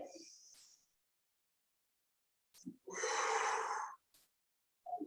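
Slow deep breaths during a standing exercise class, a short exhale, then a long loud breath out after a pause of near silence, close to the mic with faint voice fragments at the edges.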